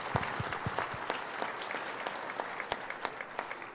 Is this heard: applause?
yes